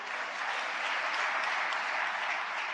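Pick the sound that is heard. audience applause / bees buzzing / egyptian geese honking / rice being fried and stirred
audience applause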